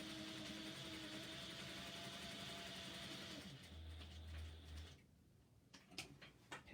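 A sewing machine stitches a seam with a back stitch, its motor whirring in a steady, close mechanical drone before slowing and stopping, followed by a few sharp clicks as the presser foot is handled.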